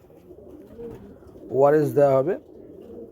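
Pigeons being dewormed give a loud, close pair of rolling coos in quick succession, with a voice talking quietly before and after.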